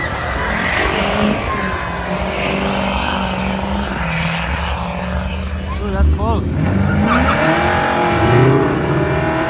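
A V6 Impala with 144,000 miles and a Duramax truck race down a dragaway strip, engines roaring loudly and steadily with a brief squeal partway, while people talk over the noise.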